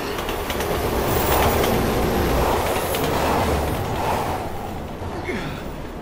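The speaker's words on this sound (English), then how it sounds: "Train." A train rumbles past in Resident Evil 6, a loud, continuous roar of wheels and rail noise with faint clacking and a high squeal near the end.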